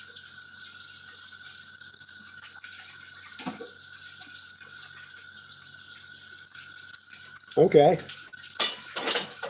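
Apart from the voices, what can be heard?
washing dishes with running water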